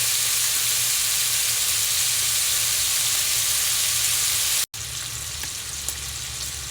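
Bacon fries in a pan full of grease, giving a loud, dense, continuous sizzle close at hand that cuts off abruptly for an instant and then resumes just as steadily.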